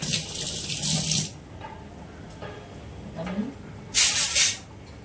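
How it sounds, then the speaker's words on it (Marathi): Hands being washed under a running kitchen tap, the water hissing and splashing in two bursts, the second louder and shorter, with quieter sink noise between. "आता हात धुवून घेते."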